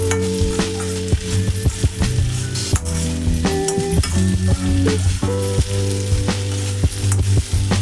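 Potato fry curry sizzling loudly in a pan while a spoon stirs it, giving sharp regular scrapes and clinks over a constant frying hiss, close and with no voices.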